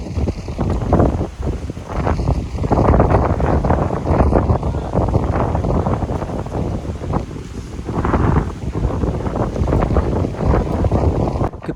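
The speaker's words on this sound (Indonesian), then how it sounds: "Perjalanan ke Pulau Lihaga agak-agak ngeri waktu naik perahu karena lautnya cukup bergelombang." Loud, continuous rumbling wind and water noise as a boat crosses rough sea to Lihaga Island, North Sulawesi, with surging swells and steady engine-like roar throughout.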